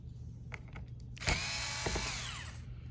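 A power screwdriver whirs briefly as it backs screws out of the back cover of a Lenovo Yoga 11e Gen 5 laptop, with a short high motor whine after a few faint clicks, close by.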